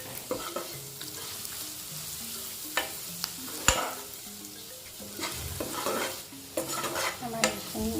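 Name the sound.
frying fish with spices in a pan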